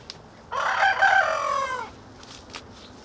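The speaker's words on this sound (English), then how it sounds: "rooster's crowing a lot." A single loud rooster crow, drawn out and close, followed by quiet background with a couple of faint clicks.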